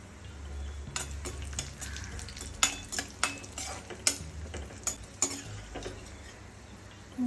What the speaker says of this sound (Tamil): முந்திரி திராட்சையும் நல்லா வறுப்பட்டுருச்சு.